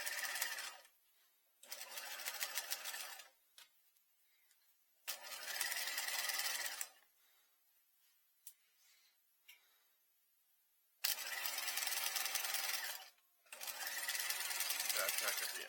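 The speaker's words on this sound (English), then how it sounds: "I'm going to back tack here now. And then I'm just going to stitch all the way down." Sewing machine stitching a seam with a back tack, in several loud bursts of rapid whirring separated by quiet pauses, close to the microphone.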